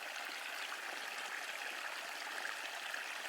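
Water flows in a stream swollen by melting snow in the outdoors, a steady, continuous rushing and trickling wash with no breaks and no voices.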